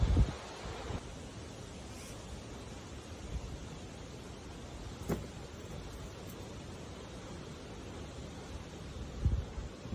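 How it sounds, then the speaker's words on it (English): Wind blows steadily at a campsite in Nordhouse Dunes in Manistee National Forest, a low, soft, continuous rush with a few brief gusts and bumps against the microphone. "the wind is blowing"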